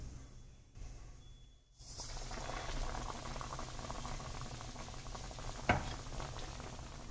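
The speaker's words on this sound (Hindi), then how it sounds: "अब हम इसको कढ़ाई में छोड़ देंगे" Vada pav coated in besan batter dropping into hot oil in an iron kadai, a quiet start giving way to a steady bubbling sizzle with a brief clink near the end.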